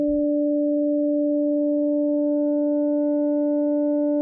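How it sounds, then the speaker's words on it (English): Steady sustained tone from a Liven XFM two-operator FM synth with feedback on the first operator, hollow and square-wave-like, holding evenly for several seconds after a brief low thump at the start. "So you hear that more hollow square wave sound"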